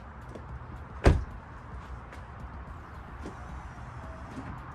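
Amp Research power steps on a Ford Raptor retract with one sharp mechanical thunk followed by a faint whirring motor and low outdoor background, close by, with no talking.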